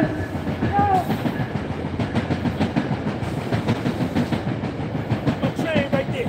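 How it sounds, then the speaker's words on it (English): A train passes nearby with a rhythmic clickety-clack of wheels over rail joints, loud and rolling steadily, with a brief squeal of metal. "Look at my train right there."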